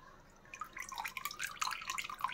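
Water drains off boiled macaroni into a sink, a close, steady trickle with splashy drips and gurgles and no talking.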